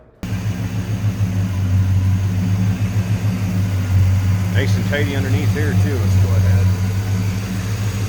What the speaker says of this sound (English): Smooth running V8.